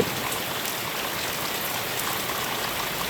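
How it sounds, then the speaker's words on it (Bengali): Heavy seasonal rain pours down in a steady, dense hiss of falling drops, continuous and fairly loud with no voices. "প্রচুর বৃষ্টি হচ্ছে"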